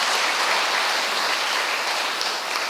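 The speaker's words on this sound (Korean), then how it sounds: "큰 박수로 환영해 주시기 바랍니다." Steady, dense applause from an audience welcoming a speaker to a Sunday Dharma service lecture at a Buddhist temple, sustained and even throughout with no voices.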